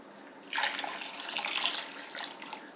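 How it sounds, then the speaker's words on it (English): Homemade broth being poured into a pitcher, a continuous splashing liquid stream that starts abruptly and runs steadily to the end, close by with no talking. "I am just transferring it into a pitcher to make it easier to pour into my"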